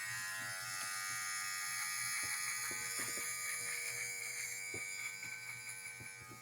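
A Yineel HC600 beard trimmer shaver running with its blade removed, a steady close high-pitched electric buzz with faint handling clicks, fading slightly toward the end.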